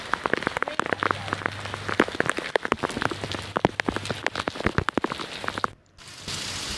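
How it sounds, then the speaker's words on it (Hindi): Heavy monsoon rain pelts a surface in dense, irregular drops and splashes, with sharper close impacts scattered throughout and a brief dip near the end before the steady downpour resumes. "तो फ़ोन पर बहुत ज़्यादा बारिश गिर रही है"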